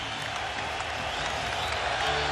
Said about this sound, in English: Oh, this crowd fired up.